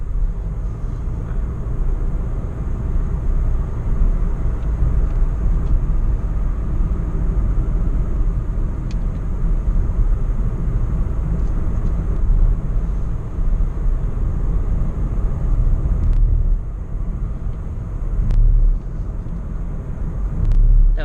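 A Mazda CX-3 accelerating in sport mode, heard from inside the cabin as a loud, steady low engine and road rumble that holds evenly with slight surges.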